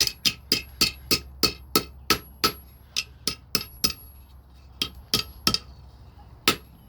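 A hammer striking hot metal on an anvil while forging a hook, a run of loud, ringing, evenly spaced blows that pause briefly, then resume, close by with no speech.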